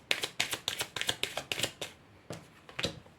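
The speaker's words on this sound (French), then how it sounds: "Je vais tirer les autres cartes." Tarot cards handled and drawn from a deck, a quick run of crisp riffling flicks in rapid rhythm, then a few slower separate snaps, close and dry.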